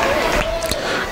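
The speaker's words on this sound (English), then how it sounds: "Crowd cheering for Christi Jaynes here" At an SWE Fury women's wrestling title match, the arena crowd cheers and shouts loudly in a dense, roaring burst that holds steady over a second.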